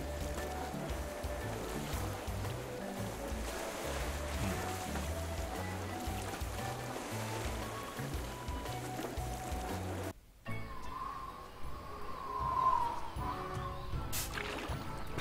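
A raft drifts over open sea in the Tales of Monkey Island video game, with a steady, continuous wash of waves and lapping water. A short dip near the end gives way to a brighter, thinner water texture.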